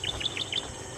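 Small birds chirp at dawn in a rural spot, a quick series of four or five high, bright tweets in close succession over a faint hiss.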